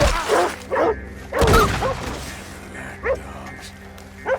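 Dogs bark in Red Dead Redemption 2, a few sharp yelps and woofs in separate bursts with one louder bark near the middle, set against a quiet game backdrop with no talk.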